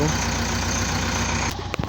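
A JCB backhoe loader's diesel engine runs nearby with a steady low rumble that cuts off abruptly toward the end, followed by a clunk.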